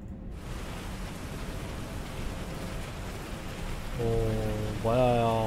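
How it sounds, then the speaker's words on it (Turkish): Heavy rain in the video game Beyond: Two Souls, a dense, steady hiss of downpour filling the scene, with a brief burst of music or tones rising near the end. "bayağı yağmur var ya"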